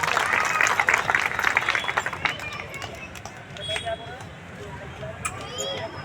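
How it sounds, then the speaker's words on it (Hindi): Applause for a speaker at a memorial-day political gathering, strong clapping from a crowd that peaks early then thins into scattered claps and murmuring, with a voice over a loudspeaker. "उनके लिए जोरदार तालियां हो जाए।"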